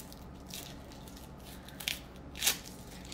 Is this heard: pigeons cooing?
no